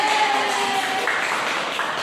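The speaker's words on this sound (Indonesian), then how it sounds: "Tepuk tangan untuk kita semua" Applause in a first-grade primary school classroom, a soft, even patter of small hands clapping together at moderate distance, with a brief tonal sound near the start.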